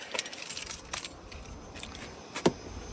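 Two keys for a 2022 Hyundai Santa Fe Highlander jangle faintly nearby in a few light metallic clinks, ending in one sharper jingle, over a quiet background.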